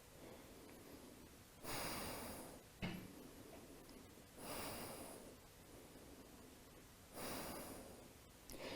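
During a Bird of Paradise pose in a vinyasa yoga flow, three slow, breathy inhales and exhales rise and fall at a steady unhurried pace, close to the microphone over a faint room hiss.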